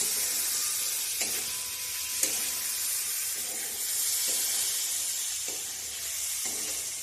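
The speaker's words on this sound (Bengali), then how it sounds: "বরবটি আলু পেঁয়াজ লঙ্কা সব রকম ভেজে নিচ্ছি নাড়াচাড়া করে ভেজে নিচ্ছি" Long beans, potato, onion, chili and tomato fry in a pan with a steady loud sizzle and hiss, while a spoon stirs and scrapes in several distinct strokes. No voices are heard.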